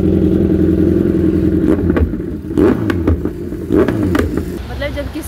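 A motorcycle fitted with a newly installed Arrow exhaust revs up close and loud, its engine rumbling steadily with sharp throttle blips, while someone talks over it.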